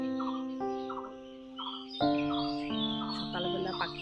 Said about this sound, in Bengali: সকালবেলা পাখির কিচিরমিচির আওয়াজ।